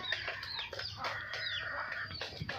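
Desi chickens on a small home farm cluck and chatter softly in a quiet, close, irregular stream of calls, with no talking.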